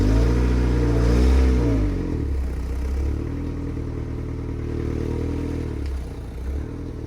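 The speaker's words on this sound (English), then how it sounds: "first I'm gonna move the car so we can have more room on the other side to work on this" Mazda Miata engine runs close by and revs briefly as the car is driven a short distance, a steady low rumble with a few throttle swells and no talking.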